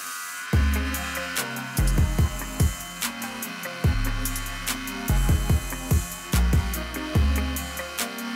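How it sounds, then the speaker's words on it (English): A bench grinder whines as a copper spacer on a steak knife handle with wenge wood is ground flush, the pitch dropping and rising in repeated short passes over a steady motor hum, close and loud, with no speech. "made all the copper flush back on the bench grinder"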